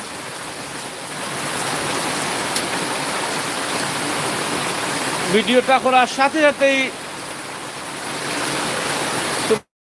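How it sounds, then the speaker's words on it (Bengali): Heavy rain falls steadily in a rural area near a road, a loud, even hiss throughout, with someone briefly speaking partway through. "বেশ বৃষ্টি শুরু হয়েছে"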